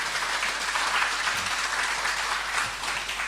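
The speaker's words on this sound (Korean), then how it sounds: "한번 박수로 환영하시겠습니다" A church congregation claps together in welcome after a prayer, producing steady, dense applause that fills the room at even loudness without any speech over it.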